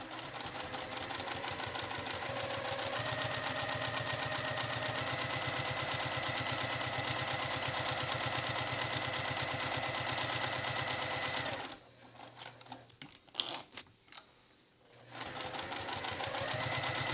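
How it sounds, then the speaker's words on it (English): Sewing machine running steadily as it top stitches along the edge of a small fabric wristlet, a continuous close whirring hum that stops abruptly near the end, followed by faint handling noises before the motor briefly resumes. "now you're going to top stitch down this edge."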